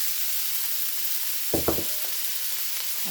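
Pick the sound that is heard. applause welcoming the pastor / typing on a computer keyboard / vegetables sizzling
vegetables sizzling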